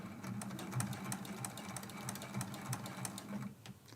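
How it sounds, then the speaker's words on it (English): A sewing machine runs steadily, back-stitching along the edge of a quilt block and then down its side, with a continuous close whirring hum and rapid needle ticking and no pauses. "And I like to back stitch all the way to the edge of the quilt."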